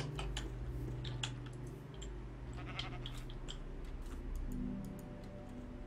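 Sheep bleating in the Minecraft video game, a few short calls scattered over a steady low hum and game background noise, fairly close and moderate in level.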